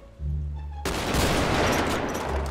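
Gunfire in the video game GTA 5 roleplay with an army sniper, a dense burst of overlapping shots that erupts suddenly after a brief tonal hum and stays loud and continuous.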